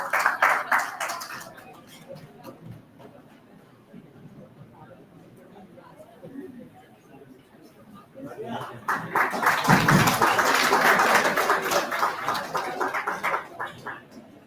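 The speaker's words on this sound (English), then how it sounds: "Please have a round of applause for Dr. Vivek." Audience clapping at a physiotherapy conference as a doctor is welcomed to the stage, building into a loud, sustained round of applause near the end, with crowd murmur in between.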